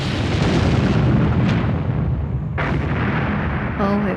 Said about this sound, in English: Oh, it was a terrific explosion, a terrific one.